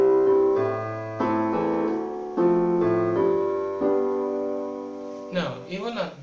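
Piano playing a slow highlife 1-6-4-5 chord progression, sustained chords struck one after another at an unhurried pace, clear and close, with a brief flourish of quicker notes at the end.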